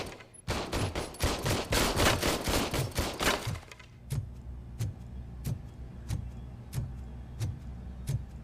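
In the video game RoboCop: Rogue City, a gun fired from the hip lets off a fast, loud automatic burst, then a slower run of single evenly spaced shots.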